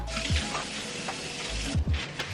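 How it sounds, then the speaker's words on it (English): Water runs steadily from a kitchen tap while hands are washed under it, a close hiss with occasional splashes and low thumps throughout. "Gotta wash my hands now."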